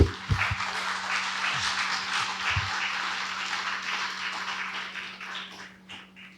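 Audience applause filling a summit hall at the close of a conference, a dense sustained wash of clapping that holds steady for several seconds and then gradually thins out toward the end.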